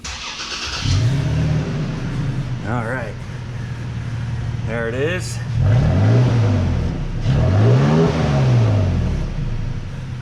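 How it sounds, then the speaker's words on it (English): A Toyota Tacoma pickup with a 3.5L engine and stock exhaust starts up close by, then revs a few times in rising and falling surges, with a voice speaking briefly. "start it up and give it a couple revs to see what the stock exhaust sounds like"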